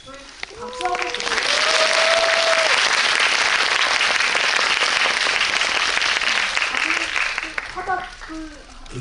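Audience applause at a film screening talk in a cinema hall, sustained and loud for several seconds, with a speaker's voice heard at the start and end.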